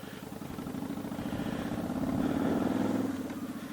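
A 2013 Victory Judge motorcycle with Bassani exhaust pipes idling, a low, steady rumbling pulse that swells slightly partway through, moderately close with no talking.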